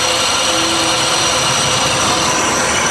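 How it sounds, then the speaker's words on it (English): Under the hood of a limited edition Mazda Miata, the air conditioner makes a scraping, pulley-like grind over the running engine, a loud, unbroken, rough drone heard close with no talking. "I am fairly certain that what we're hearing is the air conditioner"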